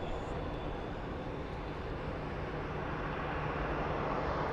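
Airliner at Phoenix Sky Harbor International Airport, a steady broadband jet roar holding constant for several seconds, with no talk.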